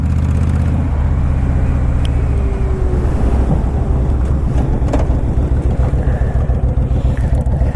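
A motorcycle fitted with floorboards hums loudly and steadily through corners, its engine drone close and continuous with a pulsing rhythm and wind noise, no speech.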